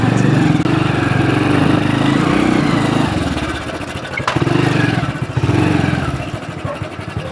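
A motorcycle engine runs steadily in a village setting, a low, throbbing hum that holds constant, then dips and swells midway as if the throttle eases and picks up again.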